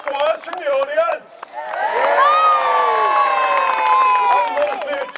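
Spectators at a Cardiff Castle jousting display give a loud, drawn-out cheer together for about three seconds, after a burst of brief scattered shouts.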